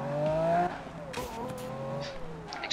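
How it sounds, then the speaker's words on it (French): A Lamborghini in the Need for Speed Rivals video game revs loudly, its engine pitch climbing and then sweeping down. The revs are mixed with game music and short bursts of tire and effect noise. "Ça c'est bien un moteur de Lamborghini ça."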